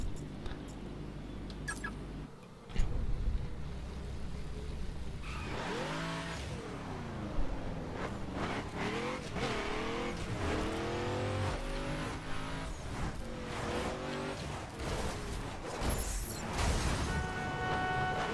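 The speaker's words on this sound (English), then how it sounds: "get the drag car out and see what we can do with that thing" A drag car engine in the racing game The Crew idles, then revs hard and climbs through repeated rising gear pulls, a loud continuous engine roar with shifts and brief tire squeal and no voices.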